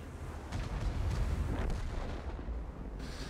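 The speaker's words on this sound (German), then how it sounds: "Der BZ hat geschossen, ne?" Heavy tank cannon fire in World of Tanks, from the Concept 5B and STRV 103B tanks, a dull, rumbling boom with a broad noisy wash that carries through the short stretch of battle.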